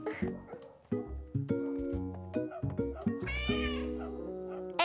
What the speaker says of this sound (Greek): Φέραμε τον γάτο για το check-up του.